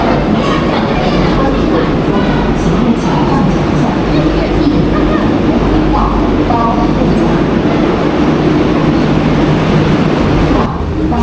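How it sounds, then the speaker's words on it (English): A Line 2 subway train rolls in at rush hour in a Northeast China metro, its loud steady rumble and rail noise filling the space continuously, with faint crowd chatter mixed underneath. "Line 2 trains arrive every 60 seconds during rush hour"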